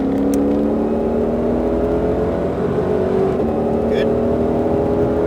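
A Ford Mustang Shelby GT500 on a Las Vegas track pulls hard out of a corner, its engine droning loud and steady from inside the cabin, with a voice speaking over it.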